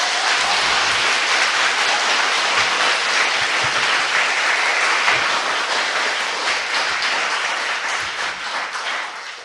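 A crowd at a political rally applauds in a dense, sustained clatter of clapping that fades slightly toward the end.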